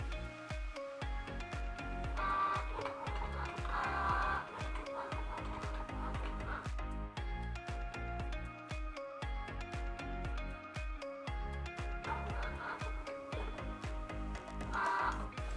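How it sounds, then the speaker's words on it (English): A Cricut Joy cutting machine cutting material: steady, soft mechanical ticking and whirring with rapid repetitive clicks and brief motor swells, close and continuous throughout. "Once the machine is done cutting, you will unload the material by using your device."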